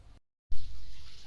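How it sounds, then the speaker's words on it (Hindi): Water is poured into a bowl of boondi while dahi pakoris are made, a short burst of noise followed by a steady, fairly loud gushing pour after a brief silent gap. "ये आप पानी डाल रही हैं इसमें।"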